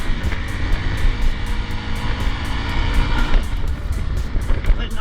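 A Hero X-Pulse motorcycle engine labours steadily up a high, cold mountain pass toward the Sani border post in Lesotho, a continuous close drone mixed with heavy wind rush and a few faint pulses.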